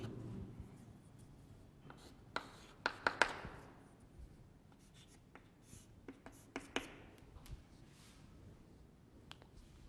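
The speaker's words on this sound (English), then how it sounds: "let me write it here" Chalk or marker strokes on a board during a chemistry lesson, a scattered series of short, close scratching taps with quiet gaps between them and no talk.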